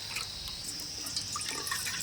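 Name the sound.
pouring a bowl of water into green saag in a wok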